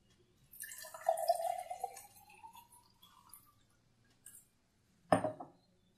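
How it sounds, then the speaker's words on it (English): Water poured into a clear glass holding a straw: a steady rising pour with a clinking tone building over a few seconds, then quiet and a sharp glassy clink near the end. "Now pour water in one of the glasses."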